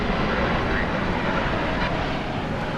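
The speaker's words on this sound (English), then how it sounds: "There's the Turkish Dreamliner." A Turkish Airlines Dreamliner at DFW Airport at night gives off a steady broad jet roar, continuous and moderately distant, with no change in level.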